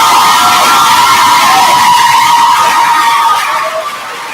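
Audience at a matriculation ceremony applauds loudly, a dense continuous wash of clapping with some cheering, close and steady before tapering slightly at the end.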